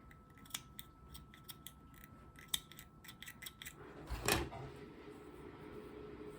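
Scissors cut crochet yarn after a doily coaster is finished, a few quiet close snips and clicks followed by a slightly louder rustle in a quiet room.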